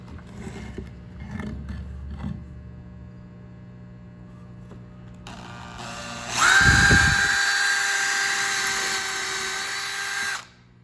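A power drill drives screws into a wooden joint, whining loudly for several seconds after quiet handling noises and clamping, then stopping abruptly.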